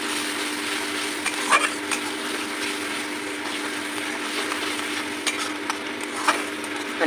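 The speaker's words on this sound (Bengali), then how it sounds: "খানিকক্ষণ নাড়িয়ে নিয়ে তারপর জল দেবো" Mustard paste mixed with turmeric and salt being stirred in a pan, a steady soft scraping texture with a few brief louder clicks, close and continuous with no talking.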